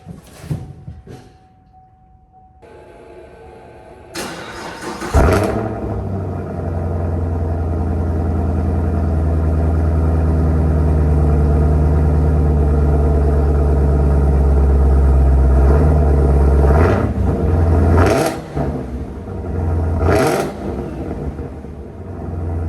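A Chevrolet Camaro ZL1 cranks over after a few quiet clicks, fires up with a loud burst and settles into a deep, rumbling idle with a couple of throttle blips, close up and without talk.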